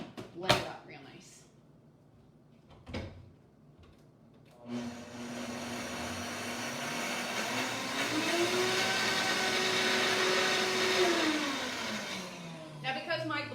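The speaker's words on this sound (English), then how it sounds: "we're going to put this on the blender and then just blend it up real nice" After a few knocks and clatters, a wide-based blender whirs into life, blending ingredients with olive oil; its motor pitch climbs, holds loud and steady, then drops and cuts off.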